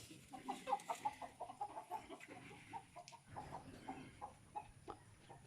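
A brooding hen makes soft, rhythmic clucks in a short repeated series. She sits fairly close but quietly, with faint background ambience and no speech.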